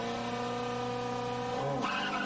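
A Ferrari race car engine revs high and steady, then surges as the car launches from the start with a brief squeal of spinning tyres.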